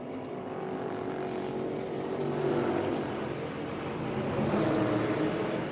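Tyler Reddick's NASCAR race car at North Wilkesboro, heard from onboard as a steady, loud engine roar that swells and eases a little as it runs laps.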